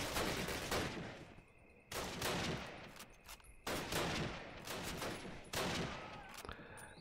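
Gunfire in Call of Duty: United Offensive, a World War II shooter: four loud, sharp bursts spaced about two seconds apart, each one ringing out into a noisy battlefield wash with no talking.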